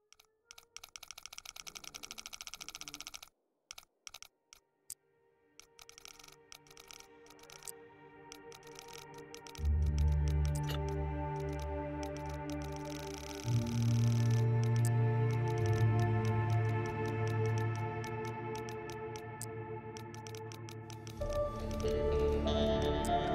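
Safe dial in The Long Dark being turned, giving soft rapid clicks and ticks, with game ambience and a low rumbling tone swelling partway through.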